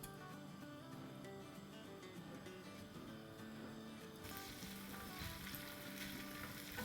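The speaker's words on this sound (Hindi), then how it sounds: "बस जिंजर को हम 30 सेकेंड ही सौटे करेंगे" One tablespoon of ginger paste sautéing in two tablespoons of oil in a pan over medium-high heat, a constant soft sizzle with faint stirring that grows slightly brighter partway through and stays quiet throughout.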